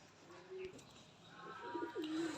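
A large red-eyed desi pigeon coos softly nearby, giving a few low, rolling coos that rise slightly in loudness toward the end.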